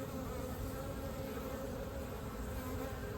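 Forager honeybees zipping in and out of a hive entrance, a continuous close buzzing hum of many wings, steady and unbroken.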